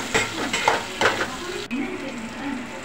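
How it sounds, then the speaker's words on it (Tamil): Sliced onions sautéing in a little oil in a pan for rajma curry: continuous close sizzling with several sharp scraping stirs of a spatula early on, then a softer steady fry. "ஒரு பேனில் வந்து கொஞ்சமாக எண்ணெய் ஊற்றி ஒரு 2 வெங்காயம் வந்து நல்லா ஸ்லைஸை கட் பண்ணி எடுத்துருக்கேன். இதை வந்து நல்லா வந்து நம்ம வந்து வதக்கி எடுத்துக்கோம்."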